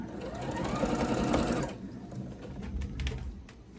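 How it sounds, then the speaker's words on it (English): A sewing machine stitches a quilt at steady speed for under two seconds, close and prominent, then stops, leaving a lower hum and light clicking. "As soon as I plugged it in, it took off sewing."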